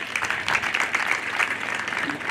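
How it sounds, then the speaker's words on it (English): Mourners at a regional council sitting paying tribute to a deceased woman break into a short burst of hand clapping, a brief, moderately loud patter of many hands. "So I think she deserves a hand clap."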